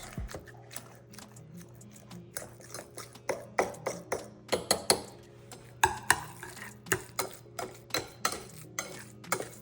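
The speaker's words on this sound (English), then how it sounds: "Now I'm going to mash them using my fork first." A metal fork mashes cooked sweet potatoes in a bowl for pancake batter, giving repeated close scraping clinks and soft thuds in an uneven rhythm over a quiet kitchen background.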